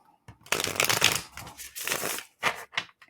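A tarot deck is shuffled by hand, giving several bursts of crisp, riffling card noise with short pauses between them, heard close and with no talking.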